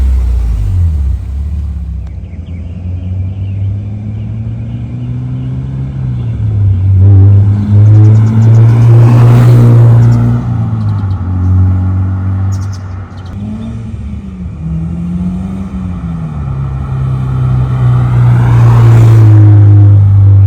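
Honda S2000 CR engine pulling along the road after sitting unrun for ten years, a steady deep drone and rumble with rising and falling revs, loud and close throughout without talk.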